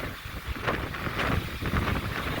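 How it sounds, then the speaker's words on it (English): A strong wind gust from Tropical Storm Sally on Dauphin Island, Alabama, buffets the microphone with loud, uneven roaring bursts that swell and fade over a few seconds, with no voices. "Ooh, that's a good gust right there."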